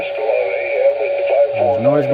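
A President McKinley II CB radio with its noise blanker switched on gives a steady hiss and static, with a faint voice coming through the speaker over it.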